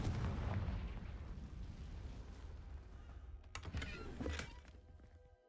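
A Confringo fire-spell explosion in the video game Hogwarts Legacy, heard as a dense, low booming rumble that fades out over several seconds, with a few sharp cracks near the end, loud and without talk.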